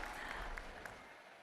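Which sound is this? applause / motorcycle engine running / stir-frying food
applause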